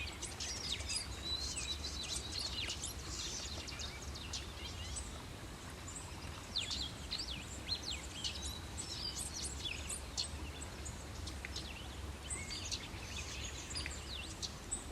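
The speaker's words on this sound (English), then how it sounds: "that might be a rose-breasted grosbeak" Rose-breasted grosbeak singing in an early fall bog, its song among a busy chorus of faint, distant bird chirps and calls over a steady low rumble of wind or background noise.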